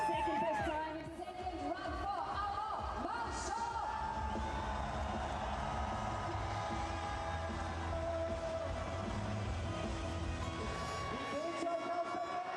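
A 22,500-strong crowd at the Schladming men's World Cup slalom roars and cheers in a steady, distant wash of noise, with a commentator talking over it throughout.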